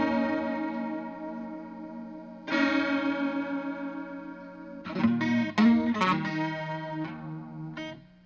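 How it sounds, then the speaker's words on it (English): An electric guitar runs through a Boss CE-2 chorus pedal, sustained chords shimmering with a wavering, watery modulation, then a few sharper strummed chords, clear and close with no talking. "The chorus pedals that I play get a Leslie sound."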